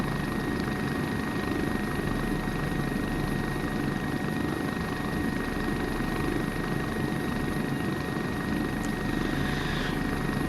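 A BK 117 helicopter in a flight simulator on a helicopter tour over Austria, its steady rotor and turbine drone loud and continuous throughout with no talk.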